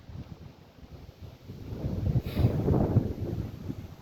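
Wind blows outdoors on a cloudy, drizzly day, a low rumbling buffet across the microphone that swells in gusts toward the middle and stays steady and alone.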